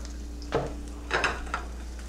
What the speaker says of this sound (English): Now while my pan is still good and hot, I need to go ahead and get some garlic right down in there.